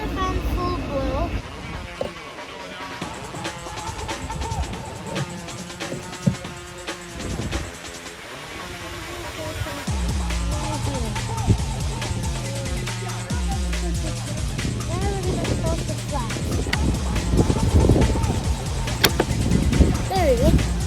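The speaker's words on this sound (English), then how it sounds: "Now we're putting the fan on full blow so that it can kill the mold." A Mercedes GLE 350 cabin fan runs at full speed during a cabin air filter replacement, a steady loud rushing airflow throughout, with clicks and shifting mechanical noises on top.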